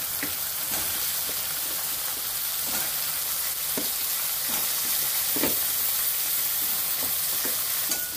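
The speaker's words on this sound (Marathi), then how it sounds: "तर हे आपण चांगलं कांदा कोलंबीमध्ये चांगलं आपण हे परतून घेऊया" Okra sautés with onion and prawns in a hot pan, a loud continuous sizzle broken by repeated scraping stirs and clinks of a spatula against the pan.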